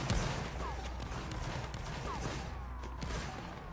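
Dense, continuous gunfire from a Roblox military video game, with rapid overlapping shots sustained at a steady level throughout and voices faintly mixed in.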